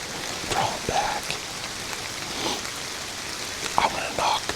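Rain pattering steadily on leaves and branches around a treestand in timber during a bowhunt, a soft continuous hiss with occasional louder drops close by.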